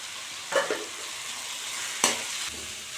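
A utensil scrapes through fenugreek greens, potato and grated coconut in a pan, two short, soft stirring strokes over a faint, steady background hiss.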